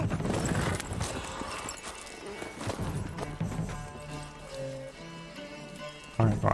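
A horse-drawn carriage in the video game Witcher 3: hooves clip-clopping in a steady trotting rhythm, fairly close, with a whinny-like cry and music tones toward the end, amid other game sounds.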